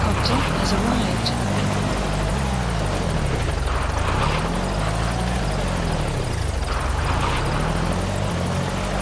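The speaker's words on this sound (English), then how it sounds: "Support helicopter has arrived." A support helicopter arrives in Metal Gear Solid V: The Phantom Pain. Its rotor drone is loud and steady, with a rising and falling engine whine, and it fills the whole stretch.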